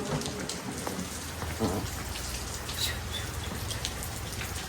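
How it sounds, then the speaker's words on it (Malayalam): Steady rain falls through the whole stretch with no voices, a dense even patter on surfaces at an outdoor spot during a trip to Russia. "മഴയാണ്."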